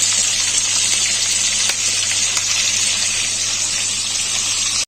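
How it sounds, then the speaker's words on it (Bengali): Fish fries in hot oil in a wok for a jhinge-aloo fish curry. A loud, close, unbroken hiss of bubbling oil runs throughout without voices. "মাছগুলো আমি ভেজে নিচ্ছি।"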